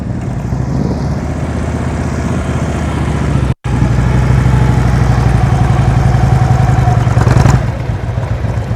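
A motorcycle engine chugs and revs at low speed during slow-speed riding practice, loud and close, with a brief cut near the middle and rising throttle later.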